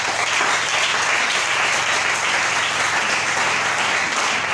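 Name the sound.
congregation applauding in church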